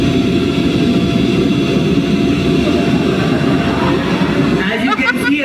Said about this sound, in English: we are adding the bike sound with the help of mixer